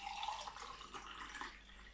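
Warm water is poured into homemade olive bread dough in a kitchen, making a faint, steady trickle for about two seconds with no talking.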